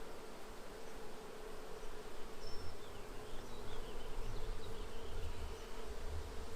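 Honey bees buzz at an open beehive, a dense, continuous drone of many insects close by, steady and quiet with individual bees flying past.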